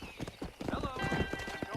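Horse hooves clip-clop steadily in the video game Red Dead Redemption, close and busy, mixed with voices and other game sounds.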